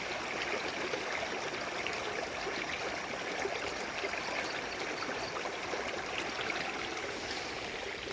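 Spring water pouring out beside an old grave, dammed and then piped toward Lake Toba, rushes in a steady, even wash with no breaks, fairly soft and close by, with no voices present.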